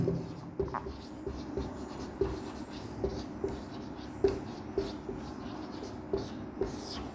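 A pen writes steadily on paper, close and clear, with small regular taps and strokes repeating every half second or so as a list of eleven fundamental duties is written out.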